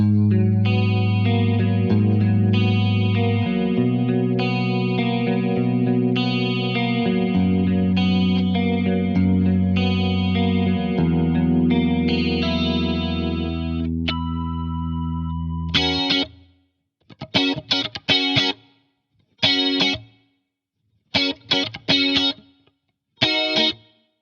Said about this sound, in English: one of my favorite chorus sounds of all time, the stereo tri-chorus